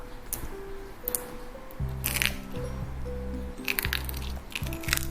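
Hardened sugar candy for cherry tanghulu breaks with brittle cracking and crunching snaps in short bursts over a looping background melody, fairly close and crisp.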